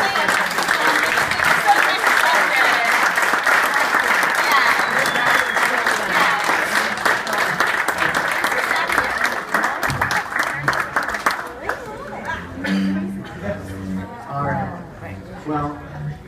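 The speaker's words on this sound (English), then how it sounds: "You can extend a round of applause for Bowland." Wedding guests applauding after a best man speech, a long dense round of clapping that thins out near the end as chatter and a voice come through.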